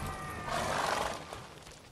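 A horse in The Witcher 3: Wild Hunt gives one loud, close neigh that rises and then fades over about a second.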